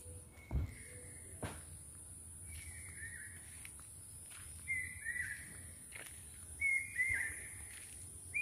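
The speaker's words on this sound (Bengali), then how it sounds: "আর দূর থেকে হালকা কোকিলের ডাক আসছে।" Near Mahaldiram in the Darjeeling hills, a bird calls several times from a distance in repeated short, faint phrases. The calls rise out of a quiet background with a soft insect hum and a few nearby thuds.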